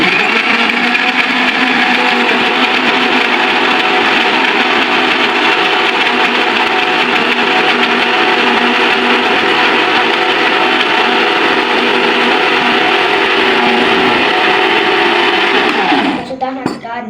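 An electric blender runs on mango, sugar and water, a loud continuous high whirring grind held steady for about sixteen seconds before it winds down and stops.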